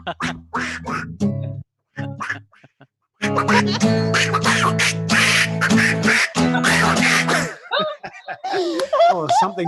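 A voice imitates a duck, quacking rhythmically in a comedy bit, with loud nasal quacks broken by short pauses and mixed with sung, speech-like phrases and chuckles.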